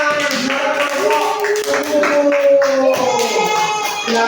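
Children in a third-grade classroom clap along with rhythmic bursts, mixed with voices that chant and call out throughout.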